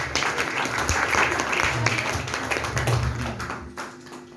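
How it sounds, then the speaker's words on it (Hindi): An audience at a church thanksgiving program claps loudly and steadily for a few seconds, the applause thinning out near the end. "मैं चाहूँगा कि यीशु के जलाल के लिए ज़ोरदार ताली बजाएं"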